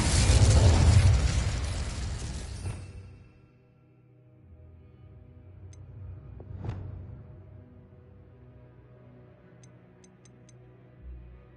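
A fire spell explodes in a fantasy wizarding game with a loud, close, roaring burst that quickly fades into a quiet low rumble, followed later by a faint pop and soft ticking.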